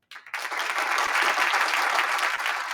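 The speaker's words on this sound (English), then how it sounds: "You deserve your applause." A studio audience at a football show breaks into applause, a sharp onset swelling into a sustained, loud wash of clapping heard alone.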